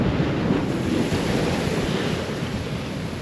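Waves surge steadily onto the Iceland coast, a loud, dense, continuous wash of surf close by, with wind buffeting the microphone throughout.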